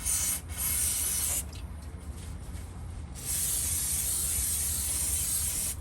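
An aerosol can with a small extension nozzle sprays into tight spaces inside a flood-damaged car body, sending out two sustained close hissing bursts with a quieter, muffled pause between them.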